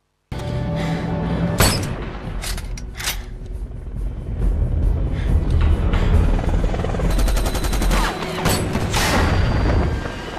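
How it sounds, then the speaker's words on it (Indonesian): In the 2007 film Shooter, a helicopter is shot down: loud rotor thrum and engine roar mixed with booming impacts and heavy crashes, dense and chaotic from start to finish. "Swagger marah dan menembak jatuh helikopter tersebut."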